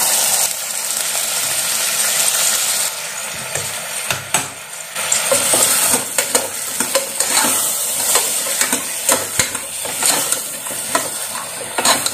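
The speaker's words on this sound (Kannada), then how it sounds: "ಈ ಕಾಳು ತರಕಾರಿ ಎಲ್ಲ ಸ್ವಲ್ಪ ಎಣ್ಣೆನಲ್ಲಿ ಚೆನ್ನಾಗಿ ಫ್ರೈ ಆಗಬೇಕು" Lentils, onion and vegetables fry in oil for a lentil sambar, a steady close sizzle broken by repeated scraping and stirring strokes against the pan, with no talk.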